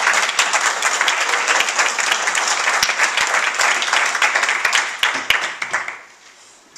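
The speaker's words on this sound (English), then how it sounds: "Let's all give him a hand." Church congregation applauding at an evening service, dense steady clapping from a full room with a few sharper claps standing out, fading away in the final second.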